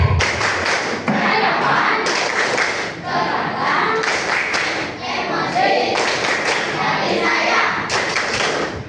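A group practising an emotion-management clapping exercise in a counselling training session claps in rhythmic bursts, sharp thumping claps in roughly one-second clusters, close and loud, with voices mixed in.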